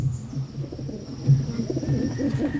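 Pigeons coo softly in a continuous, low warbling murmur, close by, with four birds overlapping.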